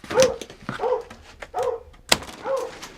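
A dog barks in a run of sharp, close yips and woofs, about five barks spaced unevenly over a few seconds, with no talking.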